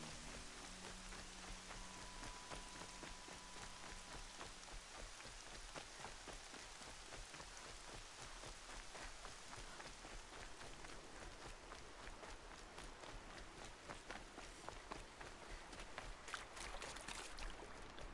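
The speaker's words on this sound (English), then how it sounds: "It's magic how it stops raining." Steady rain falls in the video game Horizon Zero Dawn, a dense, continuous patter of drops hitting surfaces close by, with a few brief tones near the start and no talking.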